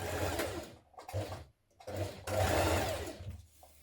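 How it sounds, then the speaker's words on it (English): A sewing machine stitches the side seam of a knit dress in short, stop-start runs separated by quiet gaps, close and moderately loud. "Now you're going to pin your dress together at the side seam matching the notches, and stitch in place."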